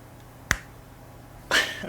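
Two sharp, quick hand claps ring out close to the microphone in a quiet room, with a short gap between them.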